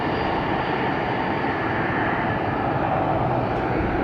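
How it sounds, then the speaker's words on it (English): Engines of a Boeing 767 wide-body airliner at Atlanta Hartsfield-Jackson airport, a steady loud broadband roar with no breaks throughout. "But this is a 767. Listen to it."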